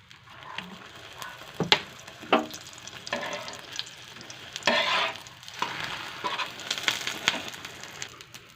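Egg paratha frying in oil in a pan, a steady sizzle broken by sharp scrapes and clinks of a spatula turning and pressing the flatbread, fairly close and moderately loud.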